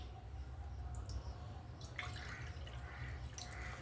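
Water is poured into a cooking pot for sweet chakkara pongal, heard as faint, close trickling and dripping splashes over a low background hum, with no voices.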